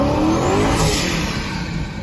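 A performance car's engine roars loudly and continuously for two seconds with a rising, revving pitch, the sound close and dense with no voices.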